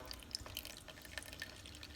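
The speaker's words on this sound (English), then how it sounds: "We'll let the water drain out." Quiet, irregular drips and trickles of water draining from a scoop of tomatoes, with small splashy plinks scattered over a couple of seconds.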